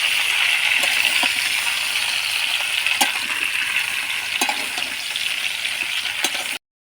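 About three kilograms of mangoes are stirred slowly in a full pan, a steady sizzling hiss with occasional sharp clinks of the spoon against the pan, close and loud, ending abruptly in silence.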